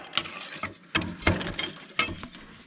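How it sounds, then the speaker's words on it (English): A nut spun off the bottom of the steering on an Oliver tractor with a 1.25-inch end wrench, a few close metallic clinks and ratcheting rattles in short bursts. "we spin this nut off the bottom here now that it's broke loose"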